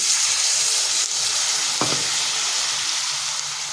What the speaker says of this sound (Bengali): এখানে দিচ্ছি সামান্য একটু জল